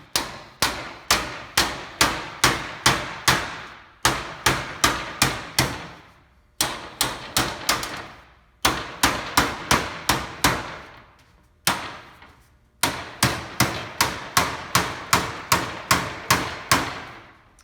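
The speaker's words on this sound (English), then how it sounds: "take your hammer and carefully hammer these grooves down" Rapid bursts of sharp hammer blows flattening grooves in metal shingles, each group of strikes separated by brief pauses, loud and close with no talking.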